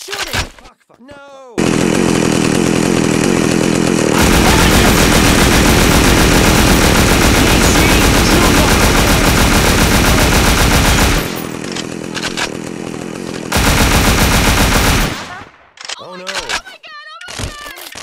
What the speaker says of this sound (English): Stop the fucking shooting!